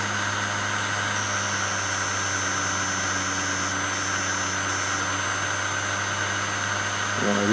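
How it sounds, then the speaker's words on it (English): Electric shunt motor running steadily with its stator windings shorted directly, a continuous mechanical hum with a high whine, close and alone, with a brief clunk at the very end. "so we'll short them directly. And there's a slight speed up in the motor."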